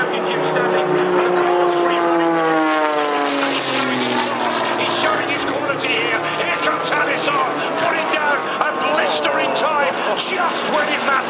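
A Red Bull Air Race plane at the 2015 Budapest final roars loudly and steadily as its engine accelerates, its pitch climbing and shifting throughout, with a voice talking over it.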